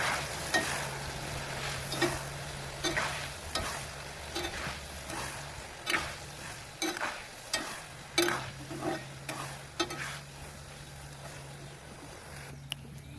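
Elephant yam and jackfruit pieces frying in oil for a Kerala-style fry, a steady close sizzle punctuated by repeated scraping stirs at an irregular rhythm.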